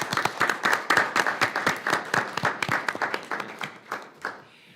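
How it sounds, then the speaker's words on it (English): Audience at a school board of education meeting clapping briefly, a short burst of applause from a small crowd that is close and fairly loud, tapering off after about four seconds. "I think we should clap for a second."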